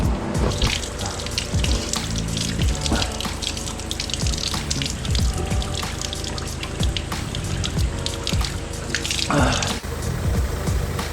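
Water running from a drinking tap at a mineral spring along a cycling route near Chuncheon Dam, a close, steady splashing gush with drips and gurgles that keeps going throughout.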